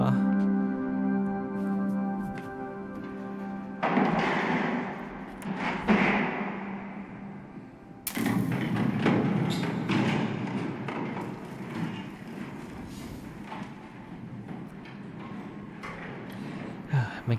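Explosion shockwaves in the side-scrolling video game Inside land as heavy booming thuds, the first after a tonal hum and a second sharper blast followed by a long rumbling wash of debris-like noise.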